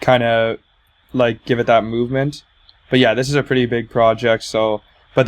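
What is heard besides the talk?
No distinct noise like a dog, phone or traffic.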